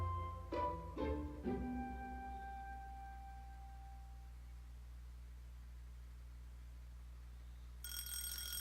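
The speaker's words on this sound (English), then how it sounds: "I turned off the alarm and got out of bed." A video game alarm clock gives three sharp metallic rings in quick succession, each leaving a ringing tone that decays over a few seconds into near silence, then a bright chiming tone starts near the end.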